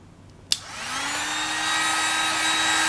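Heat gun blowing hot air over an Xbox 360 circuit board during a repair, switching on with a sharp click and then rising into a steady, loud whooshing roar with a faint whine that holds to the end.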